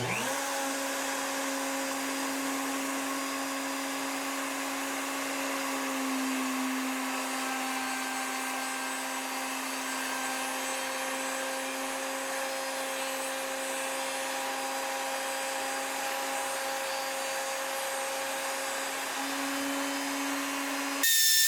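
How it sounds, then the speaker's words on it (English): A router with a 1/2 inch straight plunge bit cuts a channel in walnut stock, giving a steady high whine that holds for about twenty seconds with small shifts in pitch as the cut goes on. "I now have the router set up with a, I believe this is a 1/2 inch plunge bit, straight bit, and we're going to make one lane"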